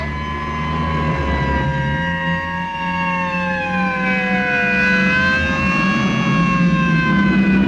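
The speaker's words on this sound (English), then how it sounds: "You couldn't possibly be surprised with all those sirens blasting." Several state trooper car sirens wail together as the cars come down a mountain road, overlapping rising and falling tones in a continuous loud chorus over a low engine rumble, in a 1954 film scene.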